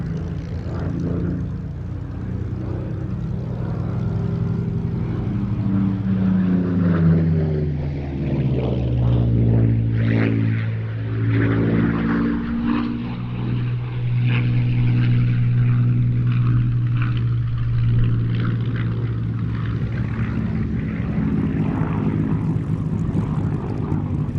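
A Messerschmitt Me 109 propeller fighter drones past with a rising then falling engine tone, loud and steady throughout, with no voices.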